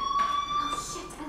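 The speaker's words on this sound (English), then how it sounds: "Do you hear that fire alarm?" A school fire alarm in the video game Life is Strange rings as a steady, piercing electronic tone, with a voice heard briefly over it.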